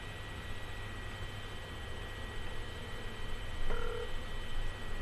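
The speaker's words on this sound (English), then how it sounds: "Alright, it's ringing." A phone call placed through a Raspberry Pi PBX with Google Voice rings faintly on the line over a steady hum and hiss, a single brief tone burst standing out near the end.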